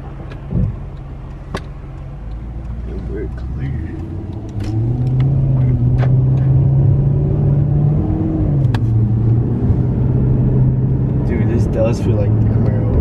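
Maserati accelerating from a rolling start, its engine rumble rising in pitch with a clear shift partway through, heard from inside the cabin, loud and continuous.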